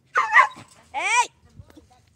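Puppy giving a short yelping bark followed by a rising, wavering whimper, close by and fairly loud, with brief pauses and faint movement noise between the sounds.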